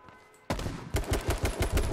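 Rapid bursts of gunfire in the video game H1Z1 crackle after a brief quiet start, shots rattling in a fast, uneven rhythm, loud and close.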